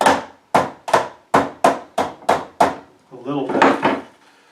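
A small hammer taps parts of a dualpole mini kit on a table, landing about eight sharp, evenly spaced wooden-metallic knocks. A brief spoken phrase follows at the end.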